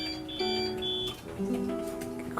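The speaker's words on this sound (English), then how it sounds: "Alarm! Alarm! That's starting." An alarm going off in a game studio office, a series of sustained electronic tones that shift pitch and overlap in steady layered bursts, with no talking.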